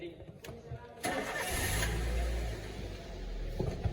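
A car engine cranks and starts during a brake booster check in a workshop service bay on a vehicle lift, catching with a low rumble that settles into a steady idle after a brief clatter.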